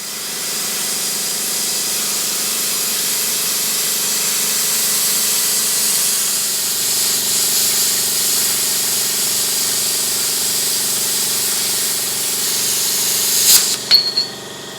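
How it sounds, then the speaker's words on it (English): Steady hissing crackle of welding on a utility trailer frame, continuous and fairly loud up close, ending with a few sharp pops near the end. "and then welding it on."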